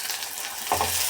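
Onion, garlic and cumin fry in oil, a dense close sizzle that swells as the pan is stirred partway through, loud and unbroken.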